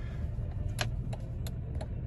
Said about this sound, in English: Okay, so I've started up the engine,